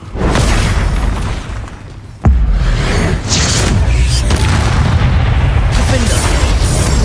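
Confringo blasting spells going off in Hogwarts Legacy combat, a sharp loud boom near the middle followed by a dense, continuous roar of explosive game effects and rumble, with voiced spell shouts mixed in.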